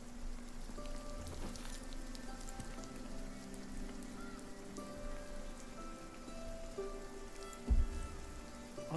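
Steady rain falling in RuneScape: Dragonwilds, a soft continuous patter throughout, with scattered game tones and a brief thump near the end; no talking.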